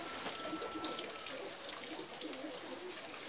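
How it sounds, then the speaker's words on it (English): Water is poured onto soil in plastic containers planted with ginger and garlic, a faint steady splashing and trickling pour lasting a few seconds. "Now let's water them."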